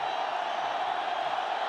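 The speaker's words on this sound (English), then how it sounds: "Well, the crowd's gone wild." A dense, roaring crowd at a floodlit cricket stadium cheers wildly as the bowler nears a hat-trick, producing a steady, loud wash of massed voices without pause.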